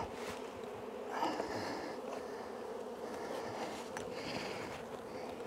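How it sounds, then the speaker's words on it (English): A dense, steady buzzing of many honeybees flying close by around an opened hive during a spring inspection, a continuous hum with slight swells as individual bees pass near. "Y'all can see all the bees flying around me, can't you?"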